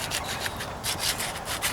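Hand sanding on the trunk panel of a 1998 Toyota Corolla being prepped for a rattle-can paint job, a steady close rasping scrape in repeated back-and-forth strokes, alone without talk.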